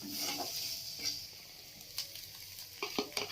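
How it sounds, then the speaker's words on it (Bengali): Maggi noodles sizzle in a pan as they are stirred with masala, a steady frying hiss broken by soft scraping and clinks of the spoon against the pan. "এখন মশলার সাথে ভালো করে এটা একটু মিশিয়ে নেবে"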